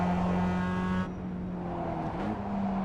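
A Mazda MX5 race car engine drones steadily in the iRacing sim at Okayama, a loud continuous buzzing note that dips as the driver lifts and then picks back up into the final turn, with no talking.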